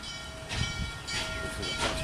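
The westbound Pennsylvania passenger train rolls past, a loud rumbling rush of wheels and cars with rhythmic surges and a faint steady tone riding over it.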